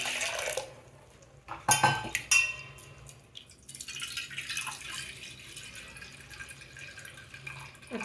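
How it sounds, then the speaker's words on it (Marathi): Lentils for dahi vada are rinsed in a bowl of water, with splashes, drips and clinks of the bowl and utensils, loud bursts near the start easing into softer swishing and trickling; no talking. "तर मी ही डाळ 2 पाण्याने आता धुवून घेणार आहे।"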